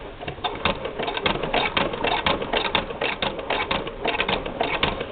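A Singer Spartan sewing machine driven by a Bishop handcrank, heard as a steady, close mechanical clatter with a fast repeating rhythm of needle and gear clicks that runs continuously throughout.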